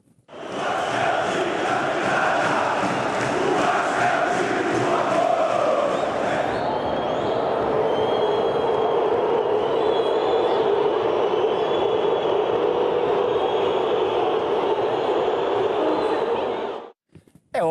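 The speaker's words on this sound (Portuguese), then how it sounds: "veja a reação das duas torcidas no fim do jogo ontem no Mineirão" A huge stadium crowd of football fans at Mineirão roars and boos at the end of a Cruzeiro versus Vasco match, forming a loud, sustained wall of voices that holds for most of the stretch and then cuts off.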